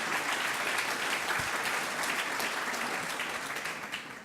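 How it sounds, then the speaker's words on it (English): A conference audience bursts into steady, full applause, a dense wash of clapping that holds evenly and then fades slightly toward the end. "That's where you can applaud"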